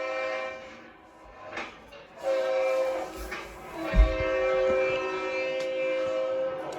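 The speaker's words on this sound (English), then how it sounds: "Santa Fe CF7 at the Kentucky Railway Museum. That's what's pulling our imaginary train this afternoon." A Santa Fe CF7 diesel locomotive at the Kentucky Railway Museum sounds its horn in long, steady blasts over a low engine rumble, fairly close and loud, with no talking.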